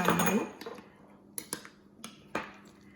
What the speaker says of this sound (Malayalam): നന്നായിട്ടൊന്ന് മിക്സ് ചെയ്യാം